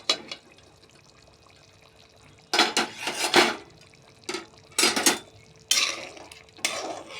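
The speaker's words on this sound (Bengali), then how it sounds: "এখন ঢাকনাটা খুলে দেখি কেমন হলো" A lid comes off a cooking pot of egg and potato curry: after a quiet stretch, several loud metallic clanks and scrapes of lid and utensil arrive in bursts, close by.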